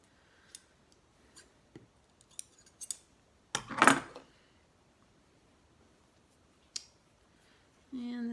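Scissors snipping loose thread ends on an antique quilt: a handful of light, scattered clicks and snips with one louder, longer cut in the middle, close up and with no talking.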